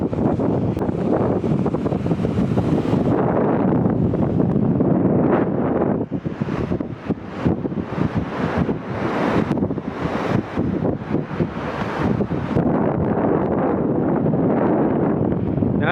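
Strong wind buffets the microphone at the Aazhimala sea coast, with surf rumbling beneath in continuous loud gusts and no speech.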